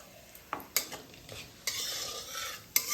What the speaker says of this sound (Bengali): আলু আর ফুলকপি ভাজার যে তেলটা ছিল এর মধ্যে আমি এবার ফোড়নগুলো দেবো